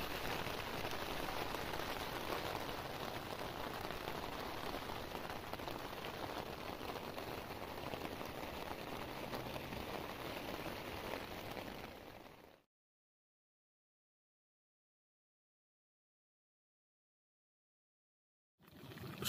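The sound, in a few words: heavy rain on tent at campsite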